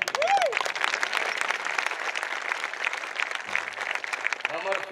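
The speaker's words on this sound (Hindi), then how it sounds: "मैं एक ताली और चाहता हूँ" Crowd applause fills a Chhattisgarhi public gathering, a steady loud wash of many hands clapping throughout, with a voice speaking briefly over it near the start and a bit more toward the end.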